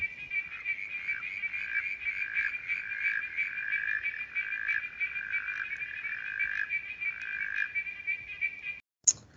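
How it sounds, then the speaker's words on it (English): A Watson's Tree Frog calls in a repeated pulsing trill, the notes running in a fairly steady rhythm for several seconds, played back as a recording and ending with a sharp click. "heard this frog call and recognised it to be different"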